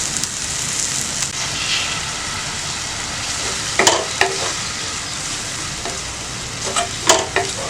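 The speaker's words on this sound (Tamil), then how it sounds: "வெங்காயம் நல்லா வதங்கிடுச்சு." Onions sizzle steadily in a pan while making lamb head curry, with a continuous crackling fry broken by a few sharp scraping stirs of a utensil against the pan, close and without talk.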